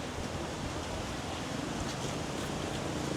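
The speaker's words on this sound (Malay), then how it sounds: "Angin kuat guys." A constant broadband roar of strong wind buffets the microphone at Kamala Beach, Phuket, with surf-like rushing underneath and no voices.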